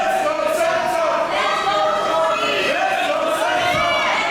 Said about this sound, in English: As you can hear, majority of the crowd here in Berlin are firmly behind Senza Volto